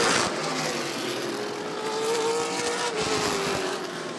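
Late model stock cars racing at Rockford Speedway roar past, a sustained engine drone with rising and falling pitch as they pass, loud with a hint of tire squeal, no voices.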